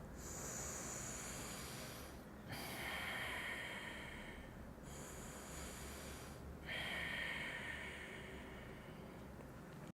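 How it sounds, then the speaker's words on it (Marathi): Slow breathing in and out through the left nostril, close and soft, with long airy inhale and exhale passes separated by brief pauses, no talking. "डाव्या नागपुडीने श्वास घ्या आणि डाव्या नागपुडीने श्वास सोडा"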